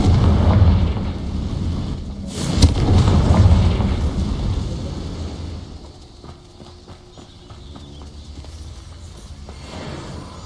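Confringo explosive spell in Hogwarts Legacy, a rumbling blast with a sharp bang partway through, then a fading tail of lighter clattering hits.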